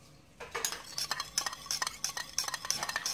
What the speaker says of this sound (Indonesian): Kita aduk jadi satu.